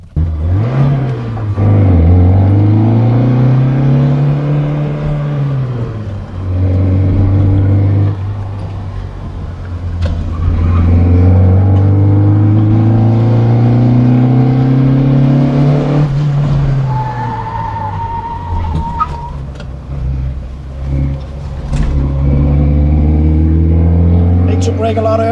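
An Abarth A112 lapping a circuit in a time attack, its small engine droning and rising and falling loudly through gear changes from inside the cabin, with brief tire squeals and a voice talking over it.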